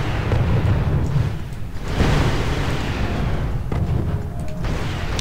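Artillery shelling in the Wargame strategy video game, with heavy continuous rumbling booms that roll together into a loud, dense barrage, a sharper blast standing out near the middle.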